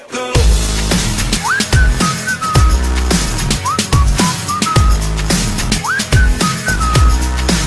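A song carries a whistled melody of short rising and falling phrases repeating over a heavy, punchy beat, loud and steady throughout.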